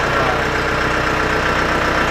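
Tractor diesel engine idling steadily and smoothly at close range, a continuous low rumble with even rhythmic pulsing throughout, no talk over it.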